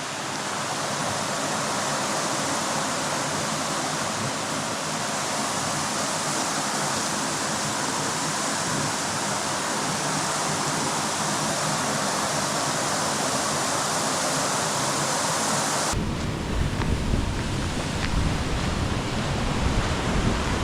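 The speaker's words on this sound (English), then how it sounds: "Standing here on the road and I can feel the spray off this waterfall." A waterfall roars beside a gravel backroad on the Copper forest service road in British Columbia, a loud, unbroken wash of falling water heard up close. Near the end the sound shifts suddenly, turning rougher and more buffeted.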